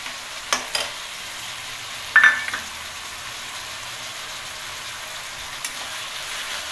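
Onion paste frying in a pan for Bengali-style mutton kosha, a soft steady sizzle broken by a few sharp clinks of a stirring spoon against the pan, close by with no talk.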